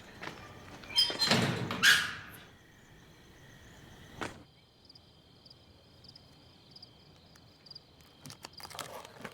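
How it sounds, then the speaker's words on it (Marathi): A door is pushed shut with a single solid thunk midway, after some brief knocking and rustling, then a faint insect-like chirp and a quiet room. "दरवाजा लाव बरोबर."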